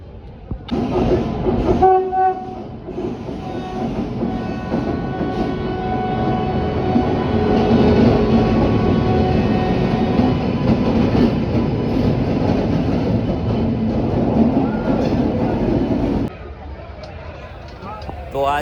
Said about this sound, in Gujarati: તો આ છે આપણી બીજી ટ્રેન